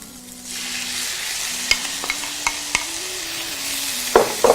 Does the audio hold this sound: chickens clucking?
no